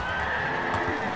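A horse neighs in the video game Mount & Blade Warband, a short whinny amid battle noise and a loud, dense game soundscape.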